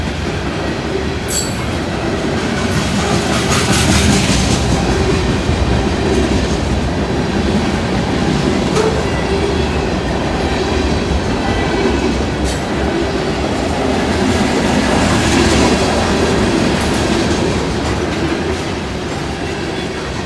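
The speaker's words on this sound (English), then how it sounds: "2 trains passing" Two freight trains rumble past close by for a long stretch, a steady roar of rolling wheels with rhythmic clacking and occasional metallic squeals.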